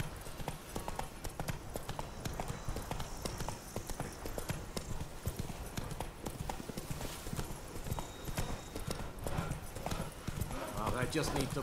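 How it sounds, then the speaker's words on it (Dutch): Horse hooves clip-clop steadily in the open-world fantasy game The Witcher 3: Wild Hunt, Blood and Wine expansion, a continuous rhythmic trot near and loud, with someone talking over it throughout. "Oh, wilde paarden."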